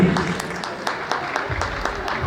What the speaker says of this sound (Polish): Koniec rundy pierwszej, wielkie brawa na zawodników